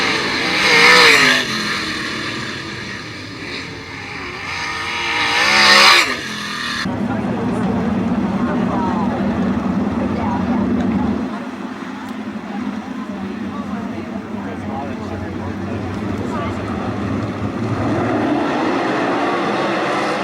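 Sprint cars racing at Attica Raceway Park during a heat race, engines roaring past loudly in bursts early on, then a sustained droning pack of cars circling the track with a commentator talking over it.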